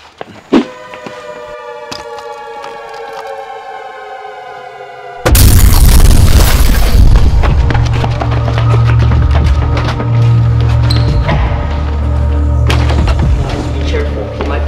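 A grenade goes off in a backyard Nerf battle: after a quieter stretch of faint tones and small knocks, a sudden loud blast breaks in and trails into a sustained heavy roar.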